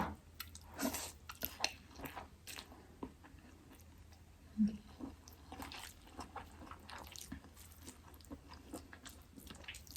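Close, soft chewing and slurping of khanom jeen rice noodles in fish curry with fermented fish sauce, wet smacks at an irregular pace, quiet and without talk.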